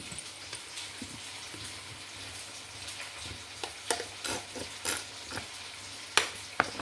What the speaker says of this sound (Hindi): अब बस मिक्स ही करनी है चीज़ें, अभी जल्दी से मिक्स हो जाएंगी।